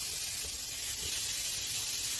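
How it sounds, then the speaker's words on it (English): Food sizzles steadily in a hot non-stick grill pan, a continuous bright hissing crackle with no voices over it. "You can hear that sizzle."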